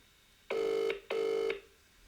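A telephone rings out unanswered as a caller waits, with two long electronic ring tones separated by a short gap, steady and clear.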